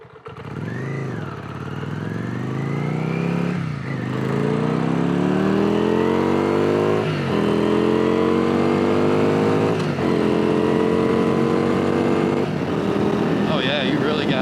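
A Yamaha Virago 535 V-twin motorcycle revs hard through the gears at high RPM, its engine note climbing and rising again after each shift, loud and close throughout, with a rider speaking over it.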